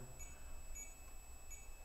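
Faint, high electronic alarm beeps sound in a basement, three short evenly spaced tones about three-quarters of a second apart over a low background rumble.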